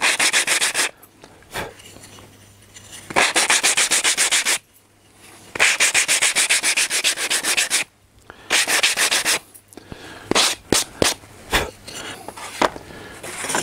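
Sandpaper rubs off small nubs on a piece of wood in loud, close bursts of rasping strokes, broken by short pauses and ending in quicker, choppier passes.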